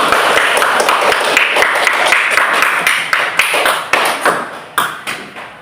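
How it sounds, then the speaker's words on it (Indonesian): Classroom children clapping their hands together after an Islamic studies lesson, a loud, close burst of sharp claps in a roughly even rhythm that loosens and trails off into scattered final claps. "Kasih tepuk tangan buat kita semua"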